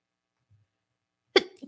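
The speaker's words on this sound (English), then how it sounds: "I have to sneeze again" One close, abrupt sneeze bursts out after near silence, with a short breathy tail following it.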